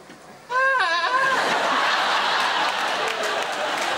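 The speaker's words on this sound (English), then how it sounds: "Lovely goats that sound a little bit broken." Goats giving loud, broken, wavering bleats close by, a quavering cry early on followed by a noisy, raspy continuation that lasts several seconds.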